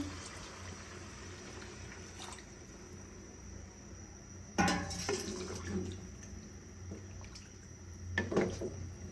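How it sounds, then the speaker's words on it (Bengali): Water poured into a cooking pot of tehari made with parboiled rice, heard as a steady liquid rush against low background noise, with louder splashing bursts midway and again near the end. "পরিমাণ মতো পানি দিয়ে দিচ্ছি"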